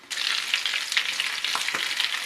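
Steady sizzling of minced meat rolls frying in a hot pan, a continuous crackle with occasional louder pops and spits, close and fairly loud.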